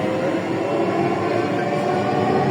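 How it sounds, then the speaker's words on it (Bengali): Interior of a metro train in Dhaka running between Uttara stations, a steady low rumble and rolling hum throughout, close and continuous, with no voices. "This train is bound for Uttara Uttar."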